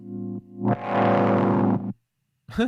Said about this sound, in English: It's a saw wave that I've just pulled the filter down rather than it being a sine wave.